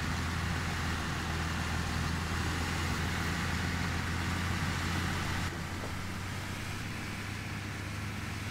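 Engine of a small Fendt tractor driving in Farming Simulator 15, a steady low droning hum with a constant motor tone, slightly dropping in level partway through, and no talking.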